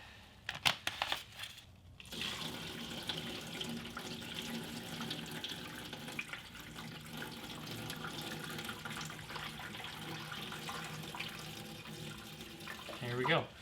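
Water pours steadily into the empty metal fuel tank of a Datsun 280Z for rinsing, a continuous hollow gushing rush that fills most of the clip after a few brief knocks at the start.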